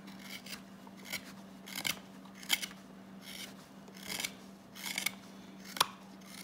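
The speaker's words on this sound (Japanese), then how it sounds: "ここに指を当てて、そこを支点にこう動かすような動きで削ると、とても削りやすいですね。" A Morakniv 162 double-edge hook knife scrapes and shaves wood in a series of short, close rasping strokes at an uneven rhythm, with a steady low hum underneath.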